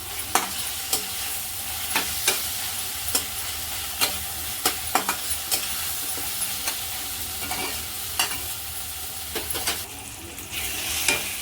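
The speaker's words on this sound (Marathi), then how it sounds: "छान मस्त परतून घ्यायचे जेणेकरून हे टमाटे छान असे नरम पडले पाहिजे" Tomatoes softening as they are sautéed in a pan for a Marathi shev tomato curry, with a steady low sizzle and regular sharp clicks of a spoon stirring against the pan; no talking.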